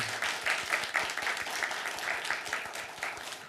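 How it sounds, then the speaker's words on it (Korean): A church congregation claps in encouragement for its teen group during a Sunday service, a loose run of individual claps at moderate-to-soft level, fairly steady across the stretch with no talk. "우리 온리틴즈 지체들 위해서 우리 격려의 박수 한번 보내주시고"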